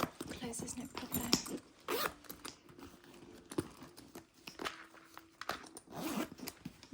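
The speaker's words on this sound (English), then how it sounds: "And this has a new style zipper." The zipper on a Louis Vuitton handbag is closed close up in quiet, soft-spoken handling, with short scratchy zip strokes among rustling and tapping of the bag while a person speaks softly.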